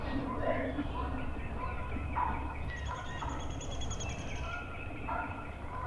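Wild turkey hen giving sharp, irregular cutting calls nearby outdoors, short clucks and a few yelps over a low background hum.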